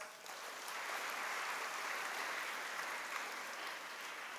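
Audience applause at a freshers' induction ceremony, a steady wash of clapping that holds evenly for several seconds at moderate distance, with no voices above it.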